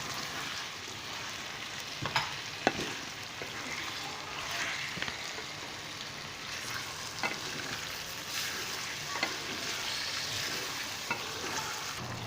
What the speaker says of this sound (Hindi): अभी इसमें साथ में टमाटरों को भी शामिल कर लेता हूँ ताकि अच्छे से भून जाए